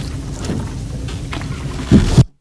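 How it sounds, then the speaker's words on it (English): Water and dock sounds from the Payday 2 video game: a steady washing, sloshing water bed with soft knocks, ending in two louder low thuds like bags set down on wooden planks before cutting to silence. "it sounds like you're on a dock, you're, you know, putting your bags down. Sounds like swimming."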